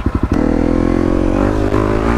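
Motorcycle engine revving hard as the rider pulls a wheelie on a city street, starting with a few quick throttle blips before settling into a loud, sustained high-pitched drone close to the listener.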